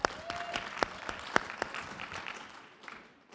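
Audience applause fills a large keynote hall at a business software conference, with a sustained wash of many clapping hands, several sharp nearby claps standing out, then slowly fading away.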